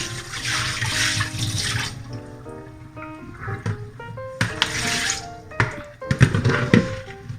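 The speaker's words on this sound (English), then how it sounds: "now I'm gonna dump the water out" Water is dumped out of a pot of boiled pork knuckle into a sink, with a gushing pour followed by splashes, clanks and thunks from the pot. The sound is fairly close, with no talk.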